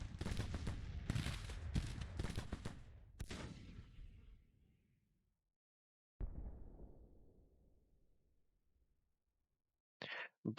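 Gunfire in Grand Tactician: The Civil War, a dense burst of dismounted skirmish volleys crackling loudly for several seconds, fading out, then a second lighter round of shots and a few sharp cracks at the end.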